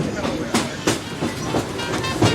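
The Disneyland Railroad train rolls along its track, with rhythmic clickety-clack wheel beats over a steady rumble, heard from on board while an announcer's voice talks over it.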